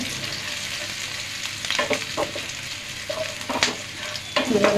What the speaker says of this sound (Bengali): এখন পেঁয়াজ কুচিগুলো একটু নাড়াচাড়া দিয়ে দেবো। নাড়াচাড়া দিয়ে শাকটার মধ্যে দিয়ে দেবো। হালকা ভেজে নিতে হবে।